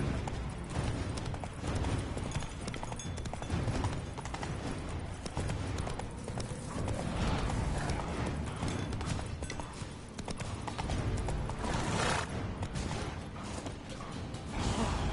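Hoofbeats of a galloping horse in The Witcher 3: Wild Hunt, a steady clip-clop rhythm mixed with creaks and dense game ambience and music throughout, with no talk.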